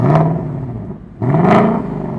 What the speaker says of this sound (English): It's really cool how it does the revs.